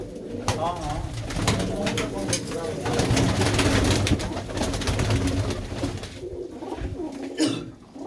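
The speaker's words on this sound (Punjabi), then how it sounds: "ਤੇ ਇਹ ਨੇ ਜੀ ਕਬੂਤਰੀਆਂ" Pigeons, including hens of the Dhanne Wali breed, coo steadily inside a loft fitted with angle-iron frames and baskets, a dense throaty murmur under someone talking nearby and shuffling handling noises.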